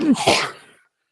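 A single person sneezes close by, a sharp voiced burst that fades quickly into silence, during a casual wrestling discussion.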